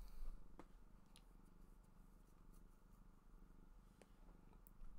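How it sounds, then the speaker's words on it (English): A contented cat purring softly and continuously, very faint and close, over a low steady hum with no voices. "Yeah, you're purring, huh?"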